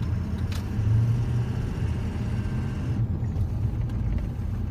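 A 2003 diesel with a ruptured oil cooler and injector trouble drones with a low, steady engine rumble under light acceleration while driving, continuous and fairly close with little change in pitch.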